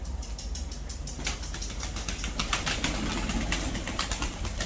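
Pigeons, including white Japanese pigeons, coo softly among rustling and fluttering wings, with a low mechanical hum running underneath.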